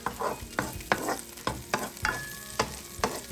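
Garlic frying in a stir fry pan for a squash and string bean dish, a steady sizzle broken by repeated sharp scraping stirs about every half second, close and moderately loud.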